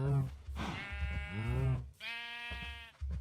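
Minecraft sheep bleating several times in a row, long wavering calls that are loud and close, rising and falling in pitch with short gaps between them.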